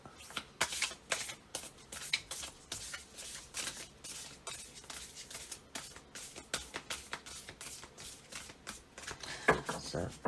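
A large Akashic Tarot card deck shuffled by hand, a close, rapid series of crisp riffling flicks in an irregular rhythm, with soft background voice.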